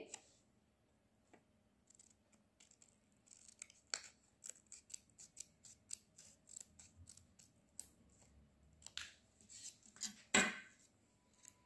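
Scissors snip through paper while a circle is cut out for a moon-phase craft, a quiet irregular run of crisp clicks and cuts that grows busier and ends in a sharper snip.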